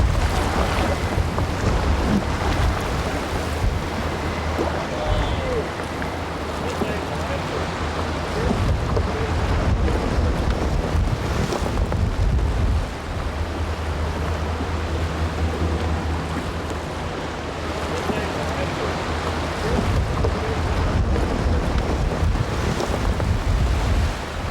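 Strong wind buffets the microphone on a boat on the Colorado River, with a continuous roar of gusts and rushing water that stays loud and unbroken throughout.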